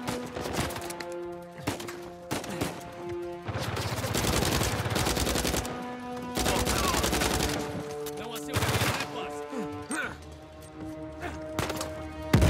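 Bursts of automatic gunfire from the video game Uncharted 4, loud rapid volleys alternating with short pauses, with game music and effects underneath.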